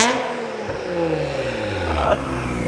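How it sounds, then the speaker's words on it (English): A Nissan Skyline R33 GTR with a titanium exhaust revs hard and close, its engine note climbing and falling in a sustained roar while the turbo spools up, with a sharp bark near the end. "You can definitely hear the turbo spool now."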